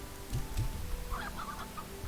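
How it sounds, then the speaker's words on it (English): Chickens in the Slime Rancher video game give a few short clucks and squawks, moderately close, over a low steady game ambience with no talking. "I'm gonna put down one chicken."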